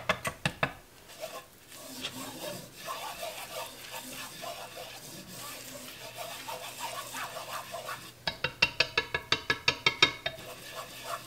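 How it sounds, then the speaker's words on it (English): A whisk scrapes and taps rhythmically in a pan, blending butter and flour into a thick paste, soft and irregular at first, then a quick run of sharp, regular strokes near the end. "All you're doing is incorporating the butter and the flour. So you're going to want to use a whisk."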